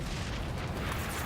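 A grenade blast in the shooter game XDefiant, a dense, loud, rumbling burst of noise that fills the whole short moment with a sustained, broad roar.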